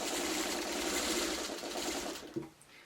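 A sewing machine runs fast and steady with a short stitch length, stitching through a t-shirt being made into a pet bed, a loud continuous whirring chatter that stops abruptly near the end.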